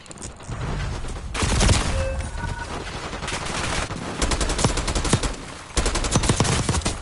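Enemy gunfire in Call of Duty Black Ops 6 rattles in long automatic bursts of machine-gun fire, loud and continuous across the whole stretch, with dense overlapping shots and no talk.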